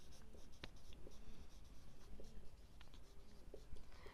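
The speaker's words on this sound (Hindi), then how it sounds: "चलिए हम यहाँ पे लिख देते हैं" Pen scratching on paper as table values are written down during a maths lesson, a steady run of close strokes and taps with no talking.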